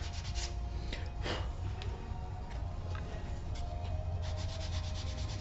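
Hand sanding of thin 2 to 3 ounce single-layer leather pieces for a minimalist wallet, a steady, light rubbing scrape with soft repeated strokes, close and continuous, with no voices.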